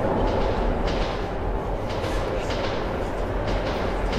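A subway train in the video game Metro 2033 Redux rumbles through a metro tunnel, with a continuous loud roar and faint rhythmic clatter of the wheels throughout.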